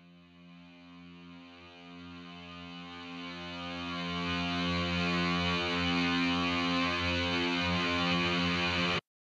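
A reverse swell effect rises steadily out of near silence over several seconds, its distorted, harmonically rich tone thickening and growing louder before blending into full music and cutting off abruptly at the end.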